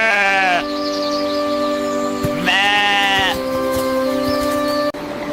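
Sheep on a farm bleating loudly and close, two long wavering bleats separated by a pause, over a steady background hum with no talk.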